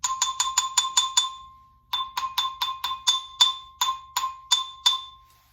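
A xylophone struck with hard mallets rings out in quick runs of bright, ringing notes, a fast rising series, a short pause, then another sequence of sharp, sustained strikes, clear and alone.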